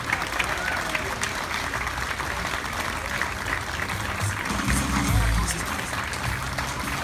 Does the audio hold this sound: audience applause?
yes